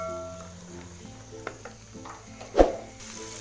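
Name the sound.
vegetables frying in a pan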